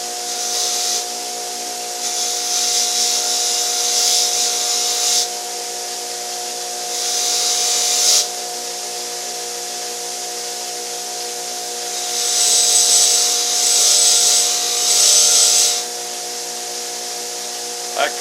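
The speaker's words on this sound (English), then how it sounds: "We're going to have to put them on the wire wheel and then maybe buff them." A wire wheel grinds rust and paint off old painted hinges in bursts of harsh, gritty, high-pitched abrasion. A steady motor hum runs beneath every pass.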